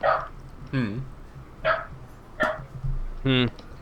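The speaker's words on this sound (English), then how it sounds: "please don't mind the dog" A dog barks and yips in a series of five short, close barks spaced roughly evenly apart, one ending in a whiny rise, with a person talking around them.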